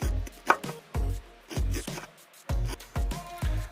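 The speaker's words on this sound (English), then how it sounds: "And now we'll go ahead and shave that corn right off the cobs" A knife shaves charred corn kernels off the cobs in repeated rough scraping strokes, about eight bursts in a steady rhythm, close and fairly loud, with no talking.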